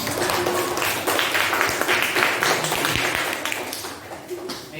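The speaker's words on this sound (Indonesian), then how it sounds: "Wes beri tepuk tangan untuk kelompoknya Jafar." A classroom of students claps for a group that has just presented, producing dense, steady applause with voices mixed in underneath, fading slightly toward the end.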